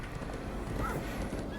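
Horses in the Minecraft Story Mode video game gallop and whinny, a steady run of hoofbeats with a brief high neigh partway through, fairly loud over a dense game soundtrack.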